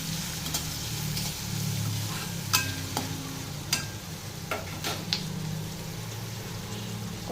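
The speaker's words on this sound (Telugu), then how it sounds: "ఇంకా అదే ఆయిల్లో ఈ ఉల్లిపాయలు వేసుకోవాలి. ఉల్లిపాయలు బాగా వేగనివ్వండి." Onions frying in oil for a prawn and gongura (sorrel leaf) curry, a steady low sizzle with several sharp scraping stirs from a spoon against the pan, no talk.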